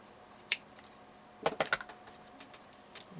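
Scissors snipping paper for a murder-mystery junk journal, heard as a sharp snip followed by a quick cluster of three or four close, crisp cuts, with faint scattered clicks after.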